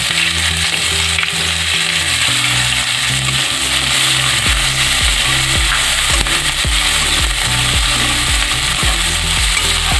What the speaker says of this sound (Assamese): পিঁয়াজখিনি ৰঙা হোৱাকৈ ভাজি ল'ম